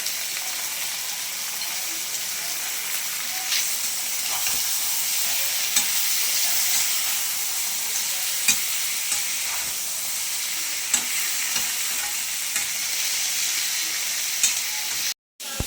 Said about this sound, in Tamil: தக்காளி வதங்கினோன்னா நண்டை போட்டுறணும்.